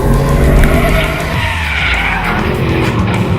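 A Mercedes SLS AMG Roadster's tires skid and scrub loudly as it is driven hard on a slippery surface, the engine droning beneath the close tire noise.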